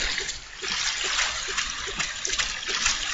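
Water splashing in the blocky shooter Ace of Spades, a steady hissing wash with soft rhythmic sloshes repeating about twice a second, close and continuous with no talk over it.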